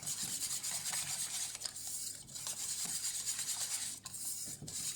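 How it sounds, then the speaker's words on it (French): A whisk rasps and scrapes steadily against a bowl while stirring chocolate Nutella ganache, a quiet, continuous rubbing rhythm with no voices. "pour aller un petit peu plus vite, vous pouvez utiliser le fouet"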